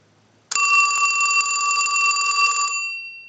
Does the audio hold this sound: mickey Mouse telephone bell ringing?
yes